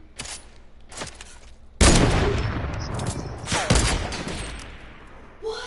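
A gold minigun firing in Fortnite, a long rapid roaring burst that starts suddenly and stays loud for several seconds, with a couple of short shots before it and a lighter tail at the end.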